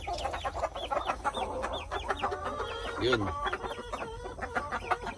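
Hens cluck busily up close in a chicken range, with rapid overlapping calls and the occasional louder squawk throughout.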